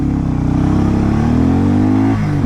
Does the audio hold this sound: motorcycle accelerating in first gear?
yes